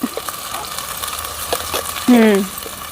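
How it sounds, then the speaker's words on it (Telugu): Ginger garlic paste, freshly pounded in a mortar, frying in oil in a clay pot over a wood-fire stove outdoors among green fields; a soft steady sizzle with a brief louder hiss as the paste hits the pan near the end. "ఇప్పుడైతే ఫ్రెష్గా రోట్లో దంచుకున్న అల్లం తెల్లగడ్డ పేస్ట్ అయితే వేసుకుందామండి వేసుకొని బాగా పచ్చివాసన పోయే వరకు అయితే వేపుకుందాం"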